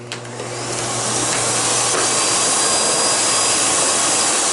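A Miele Dynamic U1 Maverick upright vacuum switches on and runs, its motor rising quickly into a loud, steady, close whooshing roar that holds without a break and has no talk over it.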